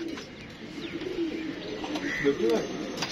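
Pigeons coo softly in low, rolling calls amid muffled background noise and faint voices.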